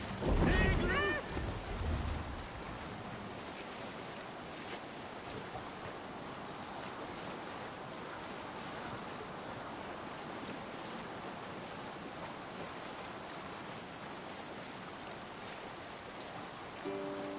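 A Viking longship at sea in the Assassin's Creed Valhalla video game gives a steady wash of waves and wind, with a louder splash and clatter at the start, and a voice speaks briefly.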